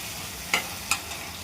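Spoon stirring chicken curry with tomatoes in a frying pan, 1 kg of chicken; two distinct scraping strokes over a soft, faint sizzle.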